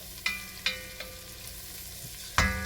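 Ground beef browning in a hot cast iron pan over a low burner, a faint steady sizzle broken by a few sharp clacks of stirring, with no voices.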